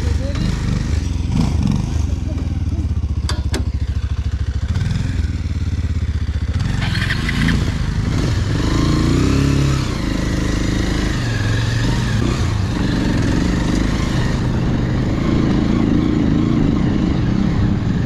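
A motorcycle engine rumbles and revs up and down over about eighteen seconds, loud and close, with scraping and clattering, and people talking now and then.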